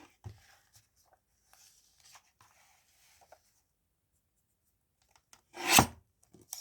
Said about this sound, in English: I think I'll use my guillotine again just to work out if I cut it about there.